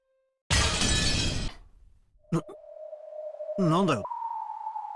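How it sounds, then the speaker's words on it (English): A teacup falls and smashes in a loud burst of breaking china lasting about a second, followed by a lingering tone and warbling synthetic effects. "Sudden sound had come from the teacup Greta had been holding, which had fallen and smashed."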